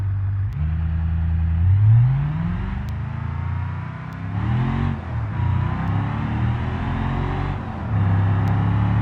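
A little Roamer D-Series car with a 5-speed manual laps the Nurburgring in a racing video game, its engine revving up and down through gear changes, rising in pitch, easing off and pulling again, loud and close.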